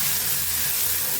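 Chopped onions, four or five of them, hitting hot oil in a pan for egg bhurji, giving a steady, close broadband sizzle and hiss with no break across the short moment.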